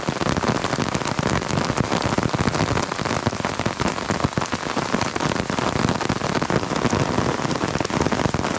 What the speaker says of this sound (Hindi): क्योंकि बारिश बहुत तेज़ हो रही है अभी